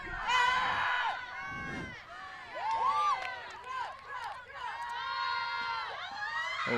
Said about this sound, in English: I couldn't even see whether she got it until I heard the crowd sigh